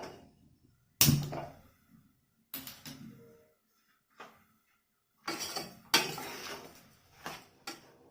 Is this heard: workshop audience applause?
no